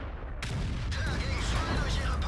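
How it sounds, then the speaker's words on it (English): A 150mm Borsig tank gun fires in World of Tanks, one sharp loud report that opens into a long rumbling roar. "I'll take a shot from you."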